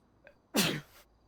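One sharp, nearby sneeze preceded by a tiny intake sound, loud and abrupt with a brief tail, over near silence while players chat online.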